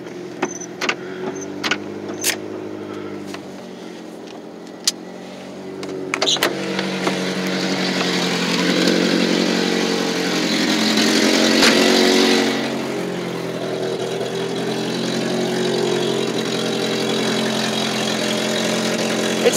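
A 1995 Ford Ranger XLT pickup truck engine cranks with a few sharp clicks on a cold start, then catches and settles into a steady, rumbling idle that continues at an even level.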